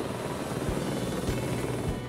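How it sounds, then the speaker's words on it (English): Helicopter hovering during installation of a carved pou at the Lyttelton Timeball Tower site, a steady loud rotor drone with rhythmic low thumping, continuous and nearby, no voices. "The decision was made to use a helicopter to install the Po."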